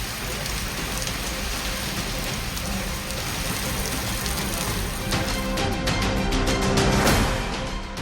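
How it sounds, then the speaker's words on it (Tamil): Moderate rain falls on city roads in Chennai neighbourhoods where rainwater runs through the streets. A dense, continuous hiss of rain fills the clip steadily, with a slightly louder rushing swell toward the end and no voices. "மிதமான மழை பெய்தது"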